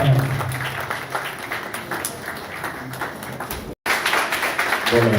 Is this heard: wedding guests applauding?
yes